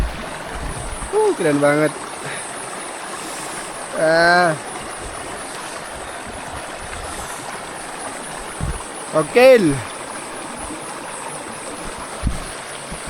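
Mountain river stream running steadily as a constant broadband wash throughout, with short bursts of people talking over it at a few moments.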